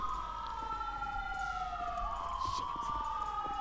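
An ambulance siren in the game GTA 5 wails steadily, its rising and falling tones sweeping up and down with faint traffic beneath, moderately quiet and without speech.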